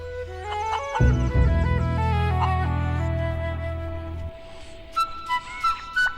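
A chicken clucks and squawks loudly nearby over a steady low hum, followed by a few short chirps.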